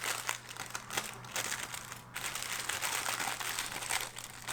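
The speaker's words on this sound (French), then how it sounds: "je vais retirer le collant doucement parce que franchement, j'ai vraiment envie de récupérer le papier de soie." Tissue paper crinkles and rustles up close as tape is slowly peeled off a beauty subscription box, a continuous dry crackling with a few sharper crunches and brief pauses.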